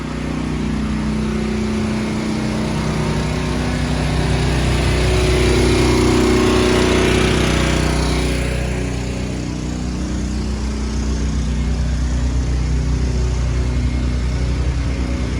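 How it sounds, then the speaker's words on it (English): Loud, steady mechanical engine drone of a pressure washer running on a Chicago city street, a continuous close roar that swells slightly in the middle and holds for the whole stretch. "That pressure washer was loud."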